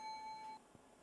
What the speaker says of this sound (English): I'm hearing the bell.